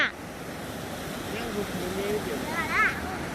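Steady broadband rush of a natural waterfall, continuous and fairly close, with voices talking over it and a brief chirping sound near the end.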